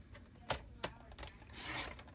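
A wooden strip being cut down to one inch gives faint, short rasping strokes, two sharper scrapes followed by a longer, softer rubbing, heard alone at close range.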